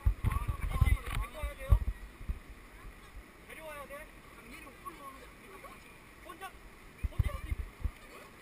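A rafting boat comes down river rapids on the Naerincheon in a valley, splashing and thudding loudly in bursts at the start and end over a constant rush of water, while people shout and talk nearby.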